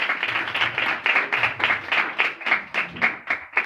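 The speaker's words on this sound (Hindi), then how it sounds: "तालियों के साथ उसका शुक्र करेंगे" A church congregation claps in thanks during a Christmas service, loud and close, many hands striking in a roughly rhythmic, pulsing beat of distinct bursts with no speech over it.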